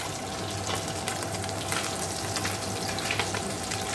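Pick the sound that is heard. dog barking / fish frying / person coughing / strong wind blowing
fish frying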